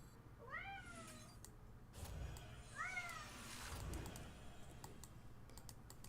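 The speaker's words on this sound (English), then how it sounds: "he is looking at me meowing because I stopped moving his toy" A cat meows twice, close by and clearly, each call a rising then falling tone, over a background of light keyboard typing and clicking.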